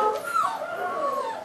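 A puppy howls in one wavering, rising-and-falling cry that trails into a thin whimper, close by and fairly soft, with no voices over it.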